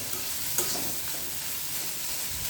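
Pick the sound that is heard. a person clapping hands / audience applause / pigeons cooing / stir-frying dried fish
stir-frying dried fish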